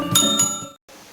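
A bright notification bell dings twice in quick succession, a clear ringing chime with shimmering overtones that decays, then cuts to brief silence before faint room noise.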